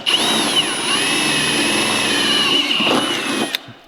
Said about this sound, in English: We need to drill those bigger to fit the rubber